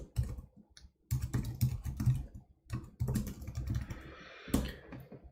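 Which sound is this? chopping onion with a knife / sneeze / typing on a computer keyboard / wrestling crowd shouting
typing on a computer keyboard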